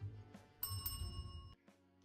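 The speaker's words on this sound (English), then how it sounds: "you can ring the bell on the counter" A counter bell rung in a video game, a bright metallic ding with ringing overtones that sustains for about a second, over a low background hum and faint clicks.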